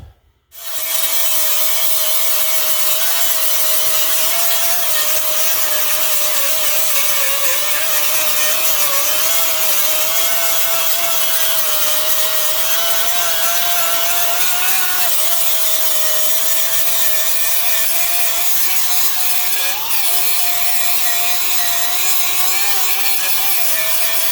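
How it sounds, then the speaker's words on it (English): Power grinder removing rust from the firewall of a square body Chevy truck, spinning up and then holding a loud, steady high-pitched whine with gritty abrasive rasp for over twenty seconds, close and continuous, no talking. "Now this is the first grinding off."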